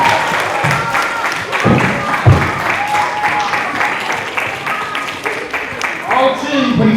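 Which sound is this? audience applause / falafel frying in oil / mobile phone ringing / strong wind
audience applause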